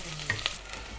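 Garlic and ginger with a chopped ingredient hit hot oil in a pan as a low, steady sizzle, with a couple of faint utensil clicks near the start; no one speaks.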